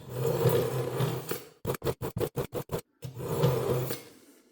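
A kitchen knife is drawn through the fine slot of a three-stage sharpener, giving about seven short, evenly spaced scraping strokes that stand out clearly and alone between stretches of louder background sound.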